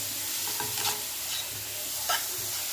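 Chopped spinach being sautéed in oil, a steady close sizzle with a few scraping stirs of a spatula against the pan, no voices.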